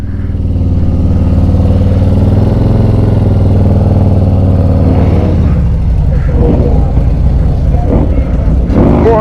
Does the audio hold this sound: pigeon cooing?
no